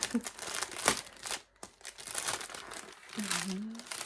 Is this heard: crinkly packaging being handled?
yes